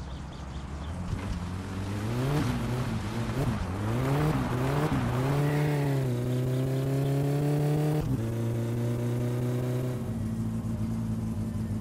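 A car engine in the game My Summer Car revs up repeatedly, rising and falling in pitch, then holds a steady drone before dropping and settling at a lower idle, loud and close without talk.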